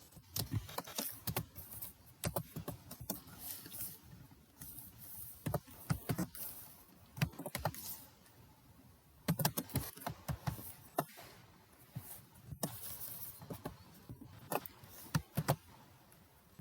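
Code being typed on a computer keyboard, quiet bursts of rapid key clicks with short pauses between runs, close and soft, with no talking.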